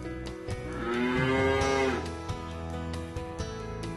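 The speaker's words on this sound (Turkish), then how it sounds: "mü diyor. Aa evet bu bir inek." A toy cow gives a single drawn-out electronic moo, close and clear, with small plastic handling knocks before and after and no talking over it.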